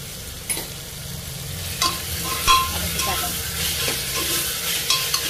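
Mixed vegetables and spices are being stirred in a frying pan over a steady sizzle, with a few clear scrapes and clinks of the spoon against the pan.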